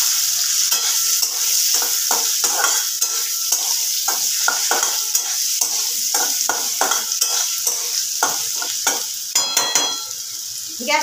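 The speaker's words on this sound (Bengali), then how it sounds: "আলুটাকে এবার লাল করে ভেজে নেব।" Potato pieces fry in oil in a pan with a steady, bright sizzle, while a utensil scrapes and stirs in quick, repeated strokes against the metal throughout.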